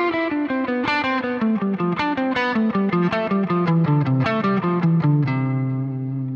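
An electric guitar is alternate picked note by note up the neck in a clean, brisk run of distinct, sustained tones that steps through a descending-then-rising line before settling on a final held note.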